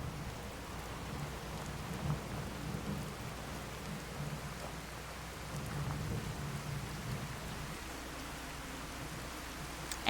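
Steady rain hisses in the Fallout game world while low rolls of thunder rumble softly in the distance, with no other sounds.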